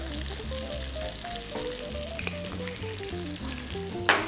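A parmesan chicken burger mixture with parsley and dried oregano sizzles steadily in a frying pan while being stirred, with soft scraping throughout and a sharp clink near the end.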